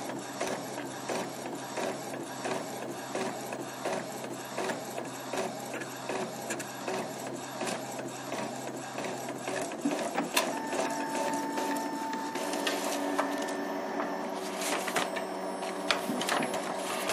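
An Epson ET-2720 inkjet printer runs through a page, its print head shuttling back and forth in steady mechanical passes with whirring feed motors, growing denser and louder partway through, with no talking.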